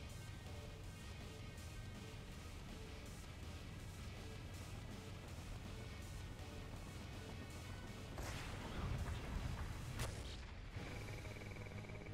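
Explosions in Renegade X during a GDI assault on a heavily defended base, faint and continuous rumbling blasts and crashes under battle noise, with a heavier burst near the end.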